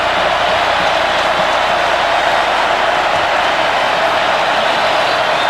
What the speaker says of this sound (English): The crowd is really wound up.